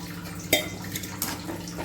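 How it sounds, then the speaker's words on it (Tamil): Water splashes and trickles into a pan of drumsticks (moringa pods) cooking for gravy, with a sharp clink near the start and a second splash a moment later over steady background hum. "இந்த முருங்கைக்காய் வேகிறதுக்கு இந்த அளவுக்கு தண்ணி ஊற்றிக்கலாம்"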